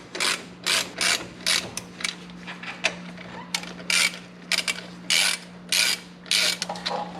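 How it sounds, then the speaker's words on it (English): A hand ratchet tightening the brake caliper guide pins on a Cadillac DeVille during a pad and rotor job: a quick series of close, crisp clicking bursts, about a dozen strokes in rapid rhythm, with no talk. "we're gonna go back with the ratchet and tighten, and then we're gonna torque it"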